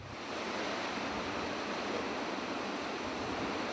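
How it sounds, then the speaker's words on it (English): Large Pacific waves roll in and crash against big coastal rocks, heard as a dense, steady roar of surf that swells in at the start and holds without speech. "I'm hoping for some of those waves to crash over all those big rocks and just get the spray"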